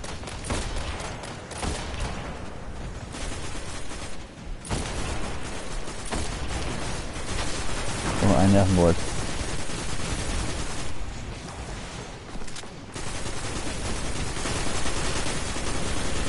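The automatic rifle Haakons Beil firing in the video game Destiny on PS4, loud dense bursts of rapid gunfire with short gaps, joined by other in-game combat noise.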